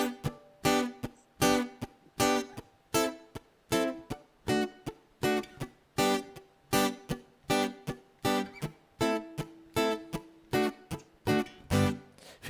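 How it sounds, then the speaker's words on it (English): On a keyboard, a reggae rhythm of short, muted chord stabs repeats at a steady offbeat pulse, each chord clipped off sharply before the next, played alone and moderately loud. "So how does reggae sound? Reggae sounds like this."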